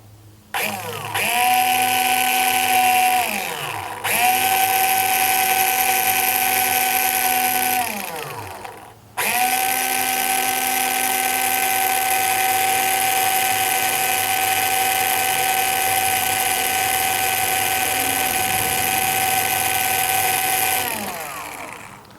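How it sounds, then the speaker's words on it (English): Makita side drill with a very small bit drilling pilot holes in a car hood, loud whining bursts that wind up and slow down, a short pause between the first runs, then a long continuous run, close. "I'm going to use a Makita side drill, and I'm using a very small bit"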